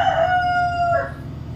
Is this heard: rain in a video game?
no